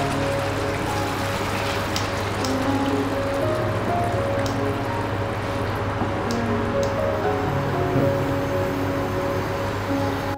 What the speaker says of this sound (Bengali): মাঝারি আঁচেই ঝোল ফুটতে থাকবে